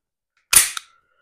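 A pistol slide is pulled off a PSA Dagger frame, giving one sharp metallic snap followed by a smaller click, close and loud in a quiet room.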